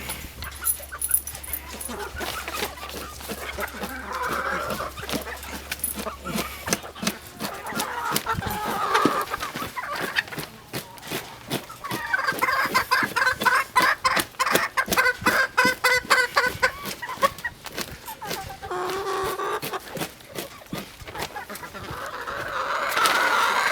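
Chickens clucking and squawking nearby in a rhythmic series of sharp calls, busier in the second half, with a low steady hum underneath at the start.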